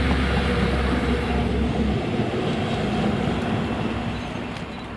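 Class 73 locomotive 73966 passing at Greenfalls, hauling empty sleeper stock from Polmadie toward Aberdeen: a loud close rumble and engine drone that drops away after a couple of seconds, leaving rolling wheel noise that fades.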